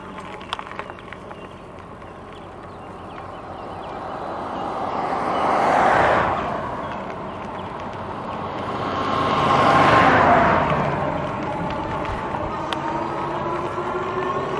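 Road traffic passing an e-bike rider, two vehicles swelling up and fading away in turn over a steady rushing wind and road bed, fairly close, no talk.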